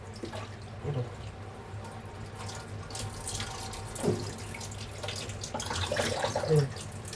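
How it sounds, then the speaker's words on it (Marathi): A kitchen tap runs in a thin stream while fish is washed under it, a steady splashing flow with occasional louder spatters and drips. "नळ बारीक ठेवले आणि त्या नळाखाली ना याला मी धुवून घेते"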